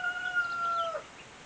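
A rooster crows once in a short, clear call heard indoors at moderate distance over a quiet background.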